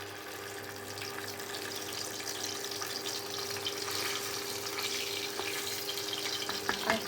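One test piece of fish sizzling in hot oil in a pan, a soft steady frying hiss with faint crackles, fairly quiet and continuous, no talking.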